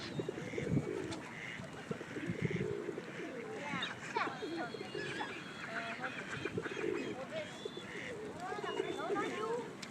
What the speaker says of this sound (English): Had to be pigeons, though.